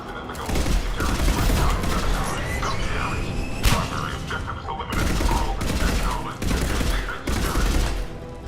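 Sustained gunfire in the Mass Effect 3 video game, dense overlapping shots and bursts filling the whole stretch, loud and close, with brief pauses between volleys.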